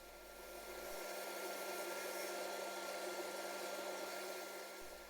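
Oscillating spindle sander shaping the profile of a wooden Citroen 2CV model, giving a steady, even motor whine with a soft sanding hiss that holds for several seconds at moderate distance.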